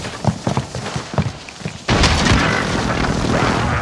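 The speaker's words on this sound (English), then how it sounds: "Precision airstrike, strike." Precision airstrike impact in Call of Duty: Warzone, a sudden loud blast with sustained rumble after a stretch of quieter scattered thumps and movement noise.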